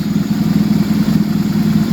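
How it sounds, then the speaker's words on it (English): A Marcus motorcycle idles at warm running temperature during a carburetor sync and timing adjustment, a loud, close, steady low engine rumble with an even pulsing beat. "I'm setting this idle speed based on how hot the engine is."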